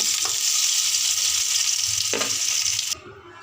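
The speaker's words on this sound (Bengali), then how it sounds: "আলুগুলো আমার ভাজা হয়ে গেছে" Potatoes fry in hot oil in a pan for a fish curry with pointed gourd, giving a steady, close sizzle with a couple of stirring scrapes. The sizzle then drops away abruptly near the end.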